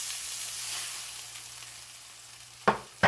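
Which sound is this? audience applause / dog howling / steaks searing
steaks searing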